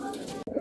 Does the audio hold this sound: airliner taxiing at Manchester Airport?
no